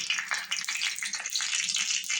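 Mustard seeds crackle and sizzle in hot mustard oil for a dosa tempering, a steady close hiss with dense popping bursts throughout.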